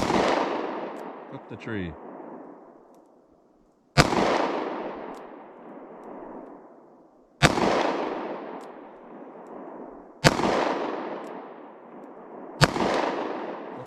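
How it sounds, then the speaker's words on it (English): Pocket pistol shots with Fiocchi Defense Dynamics ammunition fired outdoors at a distant target: five sharp reports spaced a few seconds apart, each with a long rolling echo, and a brief spoken comment between shots. "Fire a few more here."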